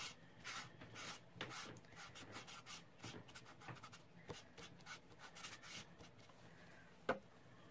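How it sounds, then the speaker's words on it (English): Close, quiet scrubbing of shoe polish onto masking tape, with rapid rough rubbing strokes in an uneven rhythm and one sharper knock near the end. "Scrubbing."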